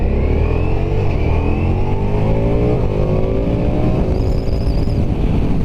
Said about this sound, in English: really good acceleration, very smooth.